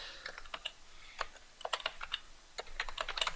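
Quiet computer keyboard typing, irregular clusters of light key clicks close by, with no talking.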